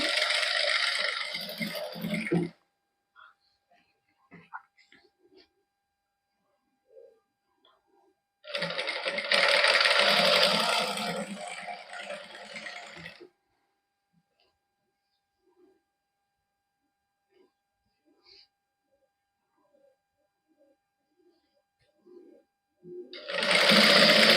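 A sewing machine stitches lace onto a simple suit in two loud, close bursts of rapid whirring, each a few seconds long, with quiet pauses and small handling clicks between them and another burst starting at the end.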